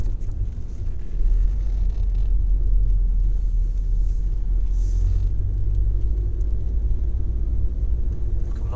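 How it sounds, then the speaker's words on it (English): A car engine rumbles steadily at low pitch, easing off as the vehicle slows under light braking, with a faint shift in engine tone partway through as it downshifts into second gear. "I'm going to slow our car down gently by easing off the gas and applying a little bit of brake"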